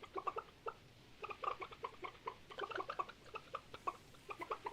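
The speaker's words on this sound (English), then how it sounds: "let's get in the middle of the chickens for one thing. Got to celebrate the chickens." Chickens cluck in short, repeated bursts from a farm in the video game Stardew Valley, several birds overlapping at moderate loudness with no voices.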